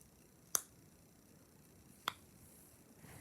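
A silicone poppet fidget bracelet pops twice, with each pop a crisp, quiet click about one and a half seconds apart in an otherwise hushed room.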